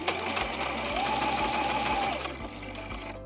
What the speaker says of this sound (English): I'm sewing my first 2 selvage edges together, and I'm going to use a 1/4 inch seam allowance for all of these